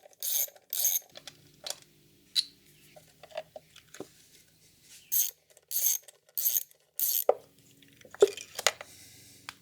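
A ratchet wrench clicks in short bursts while 10mm bolts are loosened on the engine of a 2011 Cadillac SRX with the 3.0 LF1 V6, close and crisp, separated by quiet pauses and faint handling sounds.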